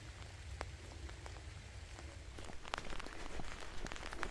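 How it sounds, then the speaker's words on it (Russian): Rain falls in an Irish forest: a faint, soft patter with scattered individual drops, building slightly louder toward the end, with no talking. "Дождик все усиливается."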